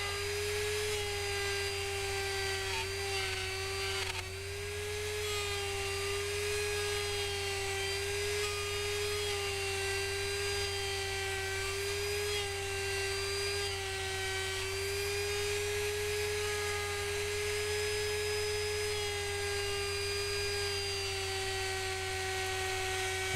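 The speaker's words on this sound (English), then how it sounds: "I'm going to take the router and take small little bites and route this cavity out" A steady, high-pitched router whine runs continuously, loud and close, with a strong constant tone and buzzing overtones, as it cuts a neck pocket cavity into an electric guitar body in small passes.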